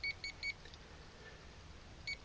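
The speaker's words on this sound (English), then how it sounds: "I'm getting little red beeps as I get close to the outlet" Short high-pitched electronic beeps from a PowerBear MY2610D clamp meter's voltage tester near a live 120-volt outlet: three quick ones in a row, a pause, then a single beep, faint against quiet background hum.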